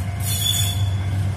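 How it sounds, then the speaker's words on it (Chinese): An antique Alishan forest railway train at Zhaoping station squeals loudly as its steel wheels grind on the rails, a sharp high-pitched screech sustained over a low rumble, with no talking. "阿里山的森林火车"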